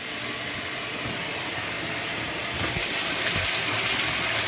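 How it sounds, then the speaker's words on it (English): Steady rushing water pouring into a clothes washer as it fills, a continuous broadband hiss that grows slightly louder partway through, with no voices. "We got water."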